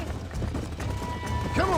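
Hooves of a galloping herd of horses drum in Red Dead Redemption, a rolling clip-clop under steady game noise with a voice over it.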